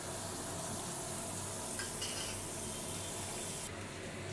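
Steady sizzle of a frying pan as ginger-cumin paste goes in with soaked chickpeas for a Bengali banana-blossom curry, a continuous hiss with a brief stirring scrape partway through.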